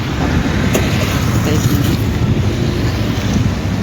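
Traffic moves along the main road toward Pune, a steady dense roar of vehicles mixed with buffeting wind noise, with a person talking over it throughout.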